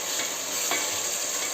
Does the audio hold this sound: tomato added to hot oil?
yes